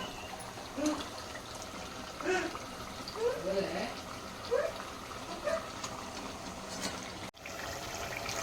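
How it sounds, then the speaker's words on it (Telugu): Water pours steadily from a jug into a pot of mutton curry with a soft, continuous trickling wash, while a person talks intermittently over it. "ఇంకా ఎసరు అయితే వేస్తున్నాం. ఇప్పుడు 1 చెంబడు నీళ్ళు."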